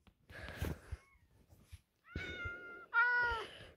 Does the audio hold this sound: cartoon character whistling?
no